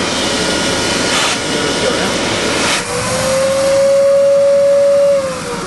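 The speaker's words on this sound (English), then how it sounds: "On your vacuum cleaner system," A grooming trailer's vacuum cleaner system running as a loud, steady airy roar. Midway a high whine rises in pitch and holds to the end, with no talk over it.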